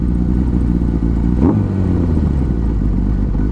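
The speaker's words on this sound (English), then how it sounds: "the bike is running really smooth" Honda CB750 motorcycle engine idling close by, a loud steady low rumble with even firing pulses and a brief clattering blip around midway.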